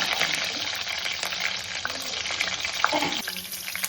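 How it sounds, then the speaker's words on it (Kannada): Mustard seeds and green chillies fry in hot oil with a dense, steady crackle and sizzle, scattered sharp pops rising over the hiss, close and fairly loud with no talk. "ಎಣ್ಣೆ ಕಾದಿದೆ, ಸಾಸಿವೆ ಹಾಕ್ತೀನಿ"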